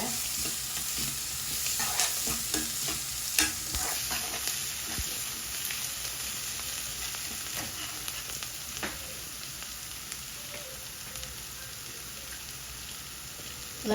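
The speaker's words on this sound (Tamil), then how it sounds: "கருவேப்பிலை பச்சை மிளகாயும் வந்து இதெல்லாம் சேர்க்குறேன்" Curry leaves and green chillies sauté in hot oil, giving a steady crackling sizzle with scattered sharp pops and stirring scrapes, close and continuous throughout.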